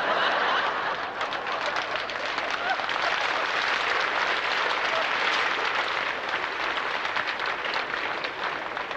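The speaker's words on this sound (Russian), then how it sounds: "Овации 10 А Андрееву." A classroom crowd gives a sustained ovation for a student, with dense, loud, continuous clapping and a few chuckles mixed in.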